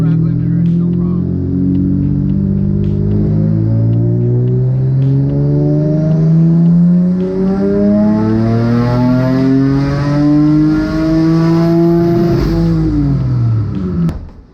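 A twin-engine Mazda MX-3 with boost and Megasquirt tuning roars on a dyno, its loud, steady rev climbing smoothly for about thirteen seconds toward the limiter before dropping off sharply at the end.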